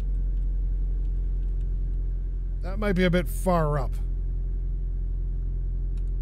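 A car engine runs with a steady low idle rumble as the car is slowly maneuvered in a garage, while someone talks briefly over it.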